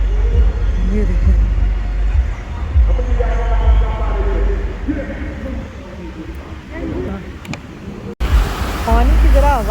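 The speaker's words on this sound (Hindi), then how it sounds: "ये यहाँ पे ना वाटरफॉल है" Steady rushing water roars throughout, with a person talking over it and a brief break near the end.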